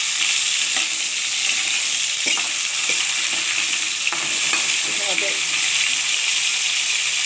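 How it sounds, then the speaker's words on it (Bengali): Fish frying in a pan, turned to cook the other side, gives a steady loud hiss of hot oil, with occasional utensil knocks and scrapes. A voice talks intermittently over the sizzle. "আর একদিকটা আবার ভাজা করতে দিলাম"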